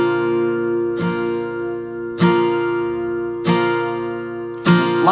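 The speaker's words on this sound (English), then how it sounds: "if you're a beginner, you can use slow and steady down strums like this" Acoustic guitar played with slow, steady down strums, four ringing chords spaced evenly about a second apart, each one sustaining and fading before the next, clear and close with no voices.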